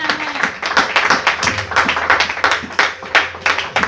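A congregation at a prayer service claps and applauds the Lord in a rhythmic, sustained burst of many hands, loud and close, with no talking over it.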